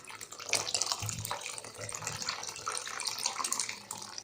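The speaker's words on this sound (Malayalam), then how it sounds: "ഇനി ഇതിലേക്ക് നമുക്ക് കുറച്ച് വെള്ളം ഒഴിച്ചു കൊടുക്കാം" Water splashes and gurgles as it is poured into a bowl of crushed raw mango while a spiced buttermilk drink is being made, a close, uneven pouring with small surges throughout.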